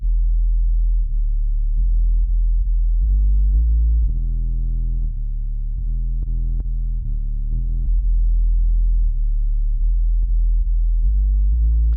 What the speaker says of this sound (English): we're going into a great plugin called R-Bass by Waves, and this is adding some sub-frequency down at 40 Hertz